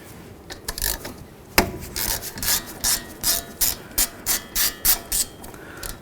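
A ratchet works loose the 13mm caliper slider bolts on a Dodge Journey's front brakes, with a quick series of rhythmic clicking pulls close up after a single sharp knock.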